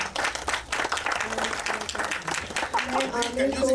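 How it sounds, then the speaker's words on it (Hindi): Audience applause at a Bollywood song launch event, a dense steady clapping from a crowd that mixes with voices, music and a sustained tone toward the end. "एक बार जोरदार ताली हो जाए आप सभी की तरफ से"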